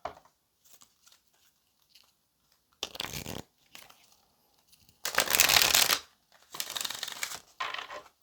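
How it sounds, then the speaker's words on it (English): Tarot cards shuffled by hand in a few separate bursts, soft riffling and slapping rustles close by, separated by quiet gaps. "I want to pull an advice card."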